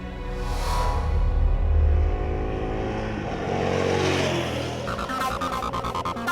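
KTM 1290 Super Adventure motorcycle ridden briskly on the road, its engine note rising and falling continuously with loud revving throughout, and a sharper, rattling burst toward the end.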